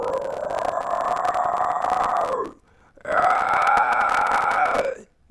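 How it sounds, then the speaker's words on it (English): Two sustained, gritty low screams with a raspy fry distortion, each lasting over two seconds, separated by a brief pause, loud and close. "If I try to do just a low Fry scream"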